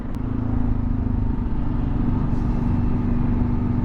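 A 2023 Kawasaki KLR650 single-cylinder motorcycle is ridden at steady speed, its engine thrumming with a low, pulsing drone under constant wind rush, loud and close with no talking.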